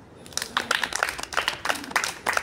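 An audience claps for a speaker, a brief burst of scattered, uneven hand claps that is fairly close, moderately loud and free of talk.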